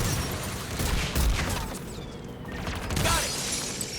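Anti-aircraft guns firing in Mass Effect 3, a dense rumble of distant bursts and crackling blasts layered with sharp debris-like clatter, steady and moderately loud throughout.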